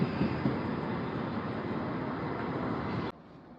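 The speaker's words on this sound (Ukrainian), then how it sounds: "трамвай їде" A tram rolls past with a steady, fairly faint rumbling and rattling that cuts off abruptly near the end.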